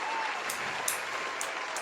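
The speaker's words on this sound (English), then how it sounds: "Round of applause for that description." A short burst of dense clapping from a small crowd, steady and fairly faint throughout.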